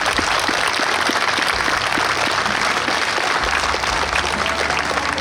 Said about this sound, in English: we think it's those guys that deserve a real round of applause today